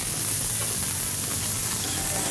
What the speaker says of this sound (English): with that piping hot skillet, it should sear all those great flavors and juices right on into the fish